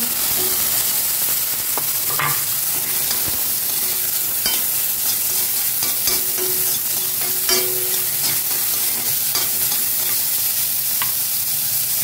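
Onion and tomato sautéing in a pan, a loud continuous sizzle with scattered spatula scrapes and clicks, steady and close throughout.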